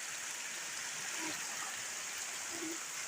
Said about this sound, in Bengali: এদিকে একদম পুরো বৃষ্টি,